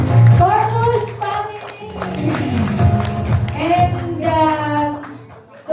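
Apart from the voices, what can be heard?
wedding guests applauding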